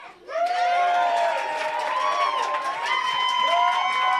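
A live crowd cheers, whoops and shouts for the band, a loud, continuous roar with high voices rising over it, starting abruptly and holding steady throughout.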